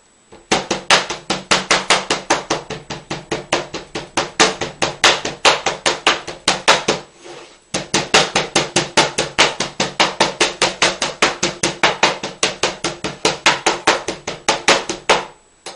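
Rapid, steady chopping of a meat cleaver through steak on a cutting board, dozens of sharp evenly spaced thwacks close up, with one brief pause midway.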